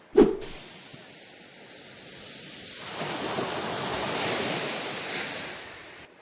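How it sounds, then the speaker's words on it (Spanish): Mediterranean Sea waves on a shore in Spain make a steady, breathy wash of surf that swells louder in the second half, with some wind and a sharp knock at the very start. "Estamos justamente frente al mar Mediterráneo"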